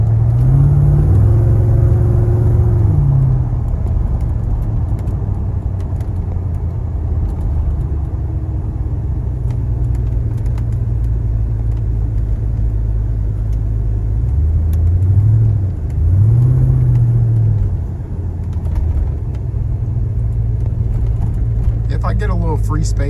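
A 1995 Chevy Impala SS with an LS engine swap on a test drive in slow city traffic, a loud steady engine drone and rumble from inside the car with a few rises in revs, while a person talks throughout.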